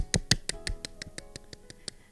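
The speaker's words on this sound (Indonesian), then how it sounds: "Tepuk tangan yang meriah buat Tuhan Yesus." About a dozen sharp, evenly spaced claps during an online children's Pentecost worship service, fading slightly as they go, fairly quiet and close with no voices.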